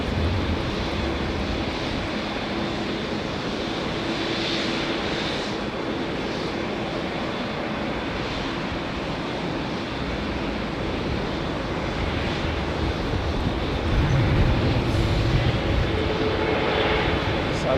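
An aircraft departs from runway 09, its engine roar a steady broad rumble throughout, building slightly toward the end, heard from a distance with wind noise.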